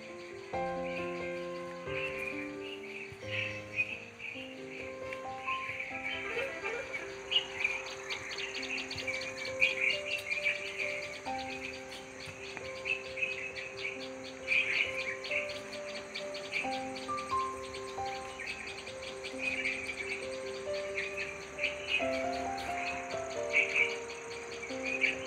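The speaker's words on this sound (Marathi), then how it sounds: "पक्ष्यांचा किलबिलाट ही चालू आहे" Birds chirp and sing in layered melodic calls near a temple set in nature, over a constant high insect drone, moderately close and unbroken.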